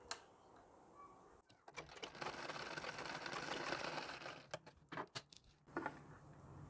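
A sewing machine runs a zigzag stitch along blouse fabric, whirring in one sustained burst of about three seconds, then stopping and starting in several short rattling spurts.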